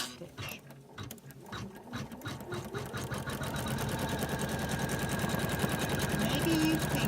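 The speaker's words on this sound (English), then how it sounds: "first I'll stitch a placement stitch" Sewing machine stitching a placement stitch along a doll skirt hem, a rapid mechanical chatter that starts and steadily speeds up into a dense, close, even rhythm.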